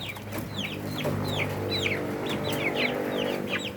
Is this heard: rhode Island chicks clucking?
yes